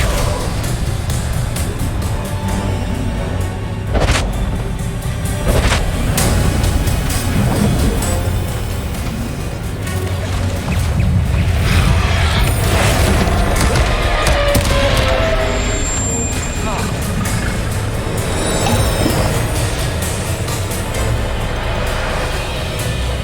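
Bombarda blasting spell exploding in Hogwarts Legacy, a dense, loud stretch of booms and cracks over steady battle noise, with bursts of blasts and debris throughout and no talking.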